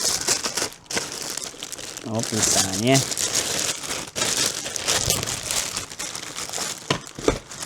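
A plastic bag crinkles and rustles loudly and continuously up close as a Eufy RoboVac X8 robot vacuum is unpacked, and a person speaks briefly partway through.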